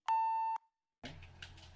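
A loud steady censor beep sounds for about half a second, followed by a short silence and then people talking.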